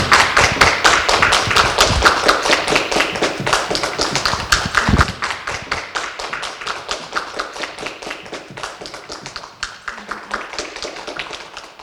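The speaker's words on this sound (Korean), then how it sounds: "강사님 나오실 때 박수로 강사님 환영하겠습니다" An audience at a church women's class lecture applauds to welcome the speaker: dense, steady clapping of many hands, loud at first and thinning gradually toward the end.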